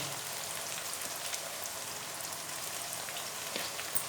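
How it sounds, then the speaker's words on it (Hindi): Eggplant pieces frying in a pan with garlic-ginger paste, a steady dense sizzle like light rain holding at an even level throughout, with no talking. "जब तक दोनों साइडों से अच्छे तरीके से ना गोल्डन कलर ना इसके ऊपर आ जाए, उतनी देर तक हम बैंगनों को फ्राई करेंगे।"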